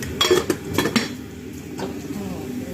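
Pots, pans and cutlery clatter in a home kitchen while chicken curry is cooked, with a few clinks and stirring knocks up front, then a steady low background hum.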